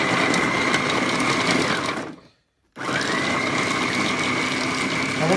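An 800W electric food chopper pureeing carrots, a loud high-pitched whir that runs for about two seconds, cuts out briefly, then starts again at full strength.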